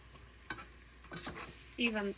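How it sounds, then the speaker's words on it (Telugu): Chicken for biryani fries in oil with chili powder, salt and coriander powder, giving a faint, soft sizzle broken by a few scraping stirs of the spoon in the pan. "ఇదంతా మంచిగా ఫ్రై అయ్యే వరకు వేపాలి."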